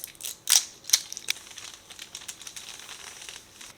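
Soft sponge dabbing paint onto a 3D printed articulated axolotl figure, quiet crinkly pats with a few sharper taps early on, close and faint throughout.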